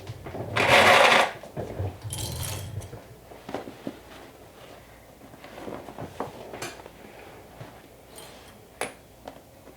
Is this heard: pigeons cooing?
no